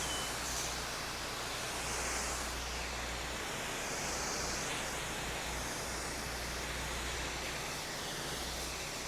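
Steady hiss of water spraying onto house windows ahead of a vinyl siding wash, a continuous broadband rush with a low rumble underneath, close and unbroken throughout.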